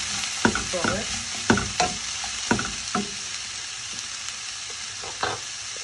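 Broccoli florets stir-fried in a hot pan: a steady sizzling hiss broken by sharp stirring scrapes and clatters about once a second, close and fairly loud.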